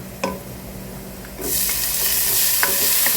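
Tomatoes drop into hot oil with garlic in a pan, bursting into a loud, steady sizzle that holds to the end, with a few light clicks of a spatula before and during.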